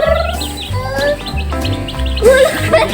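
Baby chicks cheep in short, high chirps while a family plays with them, the calls rising over a steady low hum and background noise.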